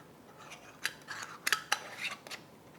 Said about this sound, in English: now let me close the lids.